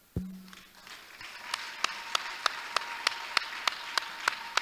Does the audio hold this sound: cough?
no